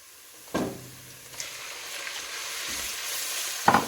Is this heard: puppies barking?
no